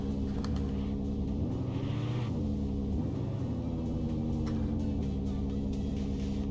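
A project car in Mon Bazou fitted with a performance exhaust and no muffler drones with a loud, steady low rumble, its pitch wavering up and down as the engine revs slightly.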